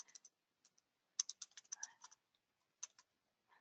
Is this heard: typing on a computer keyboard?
yes